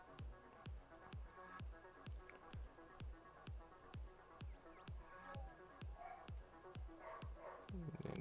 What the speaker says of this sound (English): Jeez, my dogs are loud.